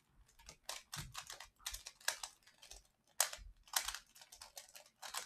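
A Rubik's cube being scrambled by hand, giving rapid bursts of dry plastic clicks and clacks in irregular clusters, close and fairly loud with no talking.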